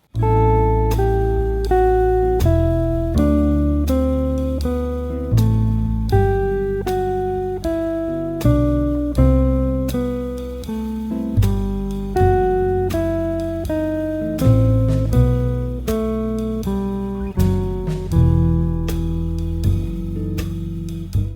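Jazz guitar plays a repeating four-note descending figure over sustained chords, steady rhythmic phrases repeating for about twenty seconds, clear and close.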